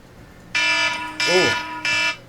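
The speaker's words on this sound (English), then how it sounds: "That's my alarm to take my kids to school." A phone alarm set as the reminder for the school run sounds three loud, harsh buzzing bursts in a row, with a short vocal sound cutting in during the second burst.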